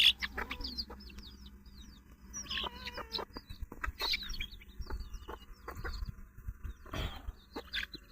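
Chickens cluck and squabble over feed, a busy cluster of short calls and squawks with scuffling, fairly quiet and close.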